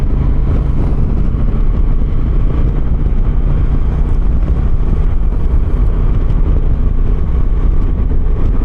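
Honda NT1100 DCT motorcycle cruising on an interstate highway in sixth gear, a steady loud low engine drone mixed with wind rush that holds constant throughout with no voices.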